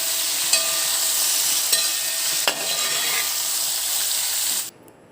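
Vegetables for aviyal are stirred and fried in coconut oil, a steady close sizzle with a few scraping stirs, cutting off abruptly near the end.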